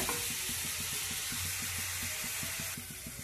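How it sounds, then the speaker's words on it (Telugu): Ivy gourd pieces fry in a pan with hot seasoning, giving a steady, close, loud sizzle with stirring scrapes running throughout and no talk. "వేగుతున్నాయి కదండి, చూడండి బాగా వేగిన తర్వాత"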